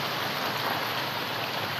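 Heavy rain from Cyclone Montha pours down in a steady, dense hiss, an even wash of falling water with no pauses and no voices.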